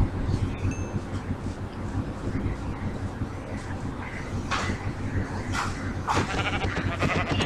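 In Minecraft, a sheep bleats a few times amid the game's constant background noise, with short bleats and brief clicks during farm-animal killing.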